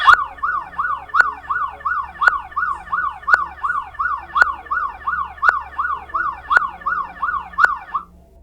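An emergency vehicle siren wailing in quick, regular up-and-down cycles, loud and clear on its own for about eight seconds before cutting off, with sharp periodic blips marking the rhythm.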